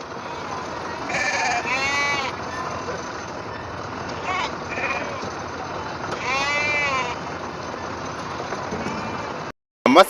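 Sheep bleat repeatedly at the Kerur sheep and goat market, a weekly Tuesday morning livestock sale, the calls coming in clear bursts over a steady crowd and vehicle din.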